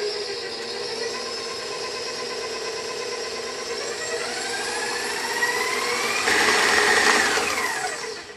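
Kitchen mixer whirring through gluten-free garlic and cheese bun dough, a steady motor whine that rises in pitch and loudness toward the end, close and without talk.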